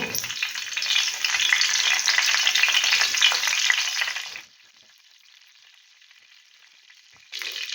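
Loud, crackling sizzle of curry leaves dropped into hot oil, spitting intensely for a few seconds, then dying down to a quiet hiss before flaring again.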